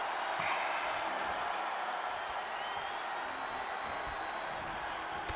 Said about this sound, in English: What a rocking crowd here today.